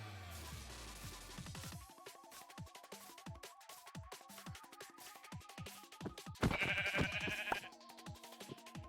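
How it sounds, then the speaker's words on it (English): Sheep bleat in a Minecraft world over the game's music, with a louder, brighter burst of bleating about two-thirds of the way through and no one talking. "There's the last sheep"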